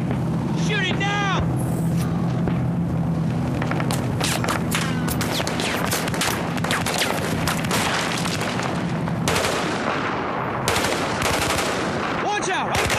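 Battlefield 4 combat on PlayStation 3: loud rapid machine-gun bursts and booming explosions in a dense, continuous barrage, with shouted voices breaking through the gunfire.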